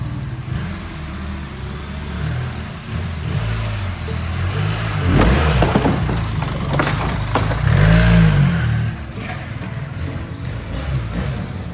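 BMW enduro motorcycle engine climbing up and over an obstacle at an off-road riding park, a steady mid-pitched engine note that swells in revs midway and settles again, close and loud with no talking.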